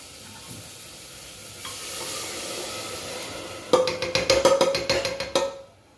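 Dal dropped into a hot pan for Marathi-style kalya ghevdyachi daal bhaji, building from a soft background fizz into loud, crackling bursts of sizzling that fade quickly at the end.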